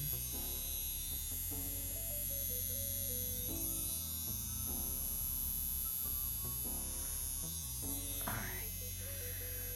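A tattoo machine needle buzzes steadily while drawing a straight line on a banana, a continuous electric hum that stays under background music throughout.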